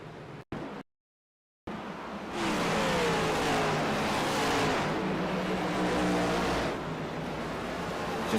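A Next Gen Cup race car engine at Bristol, starting after a brief dropout and then holding a loud sustained roar with rising pitch as it accelerates, with a faint tire-squeal edge and no voices.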